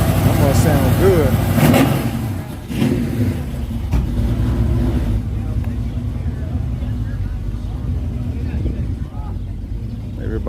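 Several cars at a car show rev and rumble as they drive onto trailers, a steady close engine drone throughout with a louder surge early on, and people talking over it.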